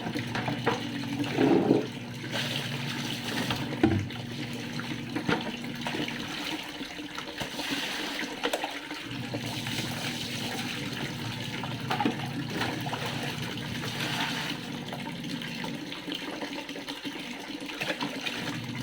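Water pours and splashes steadily into a container, a continuous gushing rush with occasional knocks and clunks early on, running without pause.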